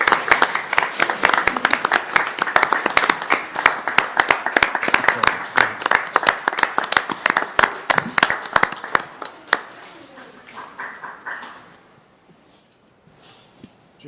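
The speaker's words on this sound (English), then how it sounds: "I'd love to give them a round of applause for their hard" A school board meeting audience gives a round of clapping, crisp and dense for about ten seconds before tapering off into a few scattered claps and quiet.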